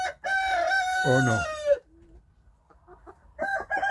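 A hen beside hatching eggs lets out loud, close, drawn-out clucking calls, then falls quiet before a second shorter burst, with a person's voice briefly heard.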